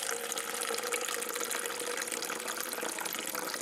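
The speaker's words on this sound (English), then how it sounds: "get a big glass of water," Tap water pours steadily into a big glass, a continuous bright splashing rush close to the microphone, with no talking.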